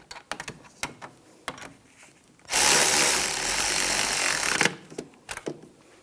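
Brake caliper bracket bolts are run down on a 2001-2006 BMW 325Xi rear brake job, a couple of seconds of loud power-tool whirring framed by small metallic clicks and taps before and after.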